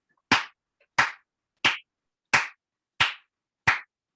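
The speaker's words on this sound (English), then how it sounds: "how many times are you going to clap in a 4/4 timing?" Six sharp, close hand claps land at an even, steady pace on quarter-note beats in 4/4 time, each crisp smack separated by clean silence.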